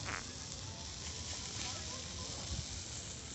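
Small campfire at a countryside São João barbecue, a dense, steady crackle and hiss of burning wood heard outdoors at low level, with faint voices in the background.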